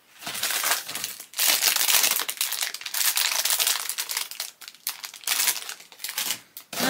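A plastic package of false nails is torn and opened up close, loud crinkling and crushing of wrapping in long bursts with brief pauses, and no voices.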